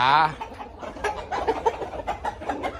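Chickens and roosters clucking in short, irregular bursts, fairly close, beginning with a brief crowing-like call, while someone talks over part of it.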